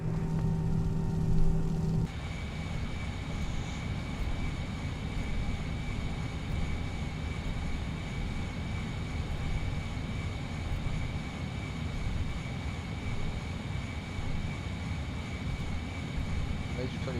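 An FSLabs A321-SL airliner taxiing in the Prepar3D V5.2 flight simulator behind a Wizz Air A320: a steady jet engine drone with a constant high whine, continuous and even throughout.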